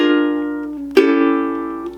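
Solo ukulele plays a short bar of St James Infirmary, with a sustained chord, a quick strum near the middle and then a held, ringing chord that slowly fades.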